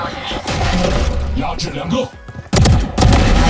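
Rapid gunfire and impact effects from the mobile video game Valorant Mobile burst loudly and continuously, with a short lull before another sharp volley of shots.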